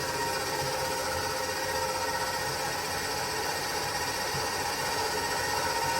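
An electric mixer beats a whole egg and a yolk into chocolate chip cookie dough, a steady whirring motor hum with a faint rhythmic churning, running without a break.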